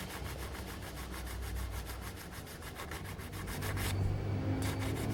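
Steady rhythmic scratching of sandpaper rubbing back and forth on wood, close and continuous, growing a bit louder toward the end.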